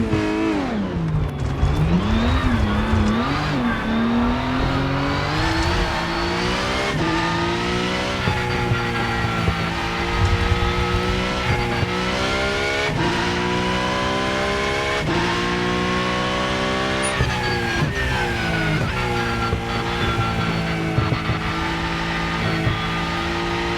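Porsche Cup race car lapping Spa in the racing game Rennsport, its engine loud and continuous throughout, climbing and falling through the gears with repeated revving, no talk over it.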